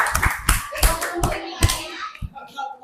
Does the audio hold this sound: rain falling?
no